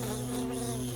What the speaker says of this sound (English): it wasn't a bee, it was a fly